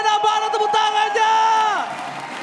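An arena crowd at a Mobile Legends esports match between RRQ Hoshi and EVOS Legends in Indonesia cheers with sustained shouts and whoops, loud and close, tapering at the end.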